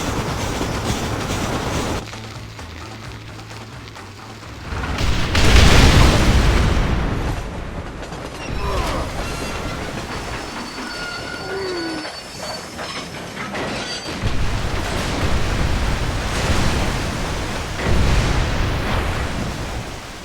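Train rolling on rails in the Red Dead Redemption video game, a steady loud rumble with rail clatter and a sharp burst midway, running continuously with no talk.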